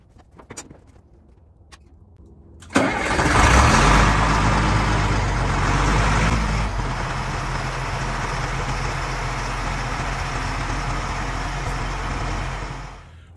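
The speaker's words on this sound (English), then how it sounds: "Well, this is a cold start, but with the engine heater on." An FMTV military truck engine cranks and catches on a cold start with the engine heater on, then settles into a steady, loud rumbling idle that continues unchanged to the end.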